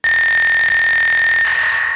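A harsh, heavily distorted kick drum with every EQ band boosted sustains as a loud buzzing tone with shrill overtones, cutting brightness partway through before fading slightly.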